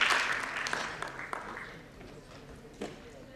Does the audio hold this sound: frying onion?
no